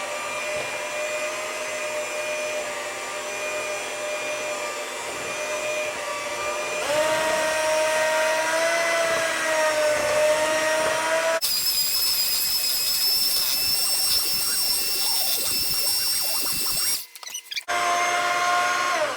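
An electric mixer beats chocolate cake batter until smooth, a steady, close motor whine that runs continuously, shifts pitch partway through and sputters briefly near the end, with no talking.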